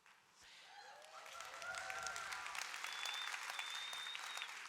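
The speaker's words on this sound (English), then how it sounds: "can we please give her an even louder round of applause?" Audience applause for a speaker at a signature speaker event, quiet and distant, swelling from a soft start into sustained clapping with whoops and cheers rising over it.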